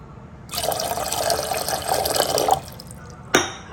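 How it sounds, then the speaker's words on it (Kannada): Water pours into a pot on a gas stove in a continuous splashing stream for about two seconds, then trickles off, ending with a sharp clink near the end. "ಎರಡು ಲೋಟದಷ್ಟು ನೀರು ಹಾಕ್ತೀನಿ"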